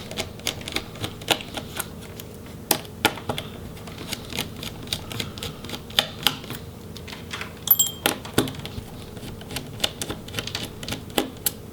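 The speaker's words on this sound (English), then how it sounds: "we'll go ahead and remove the screws for the hinges" Small screws being removed from the hinges of an HP Spectre x360 15 laptop, giving a string of sharp, close clicks and ticks of a driver and tiny metal parts, irregular and unhurried, with no talk.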